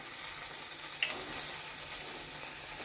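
Onions and tomatoes frying in a pan for mushroom curry give a steady, soft broadband sizzle throughout, with one brief utensil tick near the middle and no voices.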